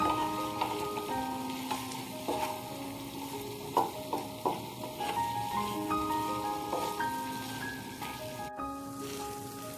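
Chicken cooking on a tawa with unsalted butter sizzles and fries steadily up close, with scattered crackles and the occasional scrape of stirring throughout.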